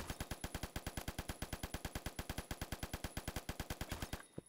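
Rapid, steady burst of M60 light machine gun fire in the shooter game Phantom Forces, a long unbroken string of loud, evenly spaced shots that cuts off abruptly near the end, with no talking.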